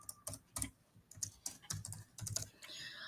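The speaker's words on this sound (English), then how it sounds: "I'm writing here Peter Parker, or let me write here Spider-Man" Typing on a computer keyboard: irregular clusters of light, close key clicks at a quiet level, with short pauses between bursts.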